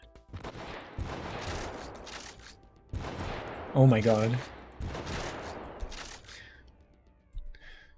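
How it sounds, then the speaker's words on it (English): Cannon fire in the video game Hardpoint, heard as sharp bursts of rapid shots spread across the clip, with a voice exclaiming in the middle. "Okay, cannon goes like that."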